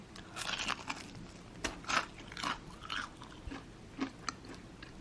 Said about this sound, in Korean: 벌써 느껴지죠? 바삭바삭함이.